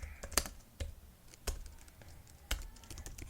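Scattered keystrokes on a computer keyboard while code is typed, a few distinct clicks spaced irregularly and fairly close, with no talk.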